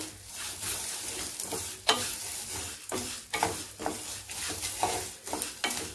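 Curry leaves drop into a hot kadai of roasting garlic and crackle, with a lively sizzle broken by repeated scraping stirs of a spoon against the pan.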